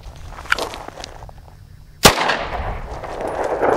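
A single loud handgun shot cracks sharply at an outdoor shooting range, standing out from quiet background noise before a lingering echoing tail.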